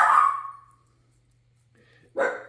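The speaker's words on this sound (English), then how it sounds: "Don't know what the dog's barking out there." A dog barks outdoors twice, one bark at the start and another about two seconds later, each a single loud, close yelp separated by quiet, with a faint steady hum underneath.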